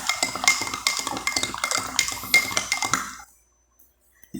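A spoon stirs table salt into water in a glass, giving a run of quick bright clinks and scraping taps for about three seconds, then silence before one last faint clink.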